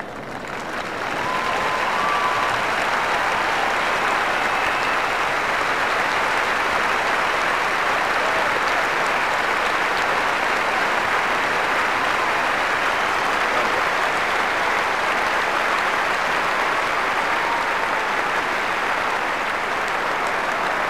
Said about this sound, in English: I'm sure there'll be a lot of waving and cheering going on as they go.